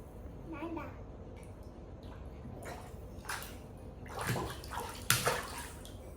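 Water splashing and sloshing as a child bathes in a small home pool, with a few louder splashes late on and soft background voices.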